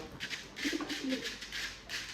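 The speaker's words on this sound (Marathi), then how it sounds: "बाहेर काढ सर्व कबूतर बाहेर काढ" Several pigeons coo in soft, repeated bursts from close by, with a low throaty murmur that keeps going throughout and no one speaking.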